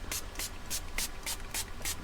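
Detangle spray is pumped onto hair in seven quick, evenly spaced hissing spritzes, each short and crisp, close and fairly quiet against a faint background hum.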